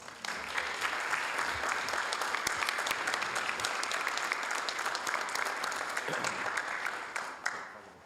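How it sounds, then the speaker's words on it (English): A city council meeting crowd breaks into sustained, dense applause that stays loud and even throughout, individual claps crackling within the wash before it thins slightly near the end. "let's give everyone a big round of applause"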